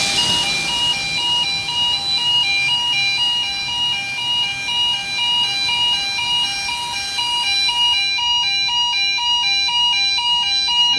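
A gas-release fire suppression panel sounds its discharge alarm, a loud continuous electronic tone with steady harmonics that shifts to a rapid pulsing pattern near the end, with no talking.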